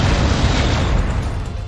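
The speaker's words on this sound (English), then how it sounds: "Oh, robots. Vulcan cannon." Vulcan cannon fire in the Descent video game: a dense, continuous burst of booming, crackling shots that holds loud and steady across the whole moment with no pause.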